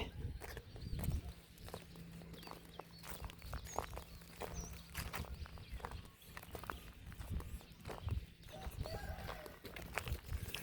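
Chickens at a rural chicken coop on a morning, with faint clucks and occasional crowing scattered over a steady outdoor background hum, heard from some distance.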